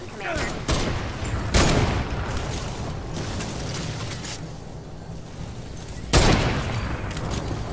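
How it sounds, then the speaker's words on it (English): Enemies firing in a Fortnite Save the World mission make rapid bursts of gunfire and booming blasts, loud and dense, with a strong volley near the end and game noise throughout. "You can stop shooting."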